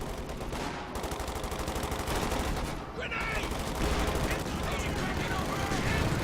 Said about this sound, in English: Assault grenades clearing out the 50 cal